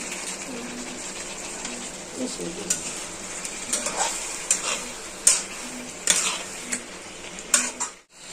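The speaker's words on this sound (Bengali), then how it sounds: "এখন রোস্টের মশলাটা দিয়ে দেওয়া হইতেছে" Roast spice masala is added to a frying pan and stirred with a metal spoon, giving repeated clinks and scrapes over a continuous sizzle; voices talk faintly in the background.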